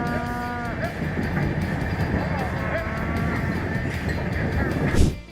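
Cattle being transported for export bellow and moo in a dense, continuous chorus, with sustained calls overlapping near and far against steady rumbling background noise.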